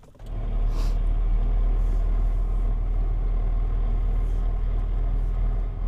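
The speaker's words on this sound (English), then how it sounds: "Here comes a car." A car passing on a rural road on a windy day: a steady, heavy low rumble rises quickly and holds loud throughout, with no talking.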